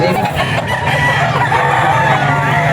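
A Golden Boy gamefowl rooster crows loudly and close at a busy pet market in Bocaue, one sustained call over crowd noise.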